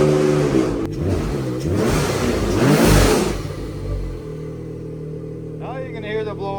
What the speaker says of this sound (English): Now you can hear the blow-off valve when you let off and put the brakes on.